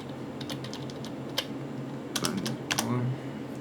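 Fingers typing a new file name on a computer keyboard, a run of quick light key taps with a few louder clustered strokes near the end, close and alone with no talk.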